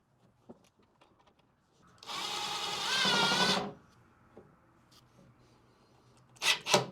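A power drill drives screws into metal brackets for a tiny house kitchenette, giving a loud sustained whirring burst of about two seconds, followed by quieter handling clicks and a short final burst near the end.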